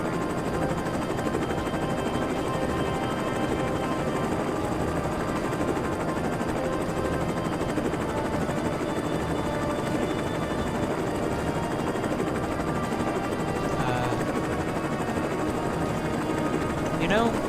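Helicopter rotor and engine drone from the military video game ArmA, a steady loud whir filling the whole stretch, with game voices talking over it.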